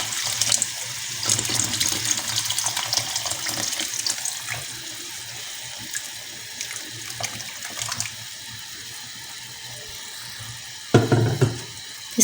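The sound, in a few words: hot water being poured into soaked rice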